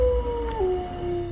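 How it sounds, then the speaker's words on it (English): A British Columbia wolf, a large gray wolf subspecies, gives a long sustained howl whose pitch holds steady, then drops midway and carries on clear and loud over a low background rumble. "The British Columbia wolf is a subspecies of the gray wolf, and it lives in this area and it grows rather large. It makes very loud howling sounds."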